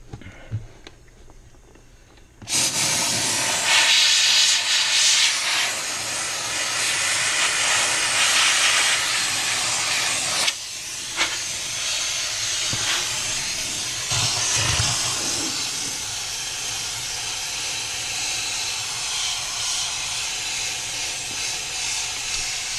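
A steamer blasting onto ice in the evaporator pan of a Fhiaba refrigerator during a defrost repair. After a quiet start comes a loud, continuous hiss with brief sputters and pops, close up.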